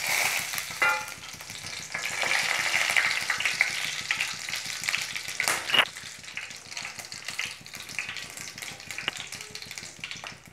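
Whole garam masala spices frying in hot oil in a pan for Punjabi rajma masala, a steady dense sizzle with crackles and a few sharp pops, close and fairly loud, with stirring scrapes and no talking.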